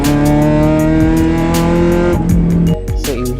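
A Proton Satria Neo R3 Clubsport engine is held at steady high revs under throttle, loud and close, then drops away with a falling note near the end; no voices.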